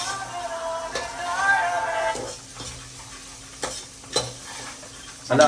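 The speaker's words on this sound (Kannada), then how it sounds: "ಇದನ್ನ ರೋಸ್ಟ್ ಮಾಡೋಣ ಫ್ಲೇವರ್ ಗಮ್ಮನವರೆಗೂ" Grains roasting and being stirred in a hot pan, a steady scraping stir with soft sizzle and occasional clinks of utensil on metal, close and moderately loud, ending with a sharper knock.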